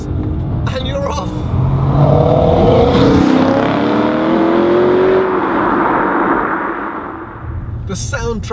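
A BMW M3 E92 Competition Package V8 with M Performance exhaust accelerates hard, its engine note rising through the revs as a loud roaring pass swells and fades, with brief voices at either end.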